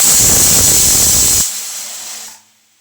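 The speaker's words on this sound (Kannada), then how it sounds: "ಸೊ ನಮ್ಮ ಕುಕ್ಕರ್ ವಿಸಿಲ್ ಆಲ್ರೆಡಿ 3 ಆಗಿದೆ" A pressure cooker boiling soaked chickpeas releases a loud, sharp hissing whistle of steam that holds steady, then cuts off abruptly and fades to quiet.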